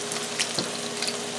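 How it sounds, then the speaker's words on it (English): Flounder pieces frying in a pan give a steady, close sizzle with crackles and small pops on top, and no voices. "brown it up a little bit on that one side there"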